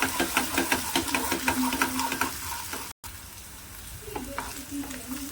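Grated ginger mixture sizzles and fries in a pan while a spoon stirs it in steady scraping strokes, close and clear, with a brief gap midway.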